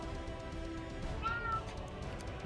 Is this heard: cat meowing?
yes